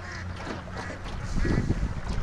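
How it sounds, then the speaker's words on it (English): Free-range ducks out on a lake on a cold, sunny morning, quacking and honking in a loose cluster at close to middle distance, the calls rising in density and volume toward the end. "Ducks are having fun."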